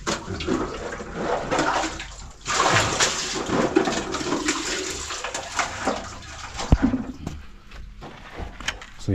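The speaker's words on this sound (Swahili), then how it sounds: "So they're even pouring more water down" Water gushes and pours down a borehole on a homestead, a rushing, splashing flow that swells and eases in bursts, with occasional thumps and faint voices nearby.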